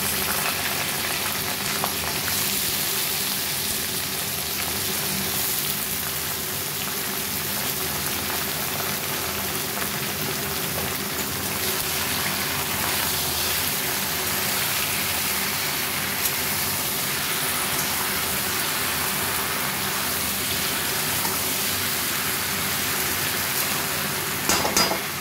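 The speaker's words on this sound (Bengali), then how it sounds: "এবার আমি বাঁধাকপিটা দিয়ে দেবো" Shredded cabbage frying with tempered spices in a pan makes a loud continuous sizzle, steady like rain, with occasional stirring clatter and no talk.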